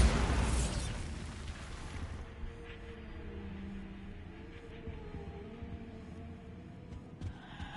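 The Bombarda spell detonates in Hogwarts Legacy with a loud, roaring burst at the start. It fades over about two seconds into a low rumbling tail and quiet game ambience, with no voices.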